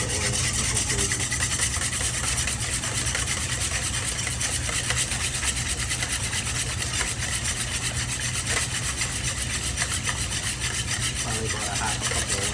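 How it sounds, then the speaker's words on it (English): A whisk beats oil into a citrus vinaigrette in a bowl, giving a steady, continuous scraping and rubbing rhythm close up with no voices. "All right, whisk, oil, and just a touch of oil, nothing crazy."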